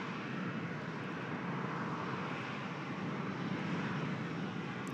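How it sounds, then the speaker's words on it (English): A Singapore Airlines A380 airliner comes in to land at Manchester Airport in stormy, windy weather, its engines a steady, broad, continuous roar that stays loud and even throughout with no voices. "A380 will be next to land."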